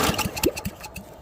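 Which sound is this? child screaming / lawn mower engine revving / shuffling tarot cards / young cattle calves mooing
lawn mower engine revving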